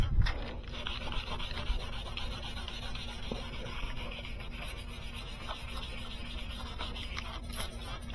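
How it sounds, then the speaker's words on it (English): Silicon carbide sandpaper scrubbing a hazy 2014 Hyundai Elantra GT headlight lens, a steady wet rasping rub that continues close and evenly, with a few louder strokes near the end. "So it's a silicon carbide sandpaper. It's really good for wet or dry sanding."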